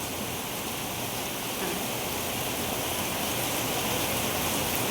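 Steady, dense rain hissing continuously, a broad wash of noise with no pauses, fairly close and even in loudness.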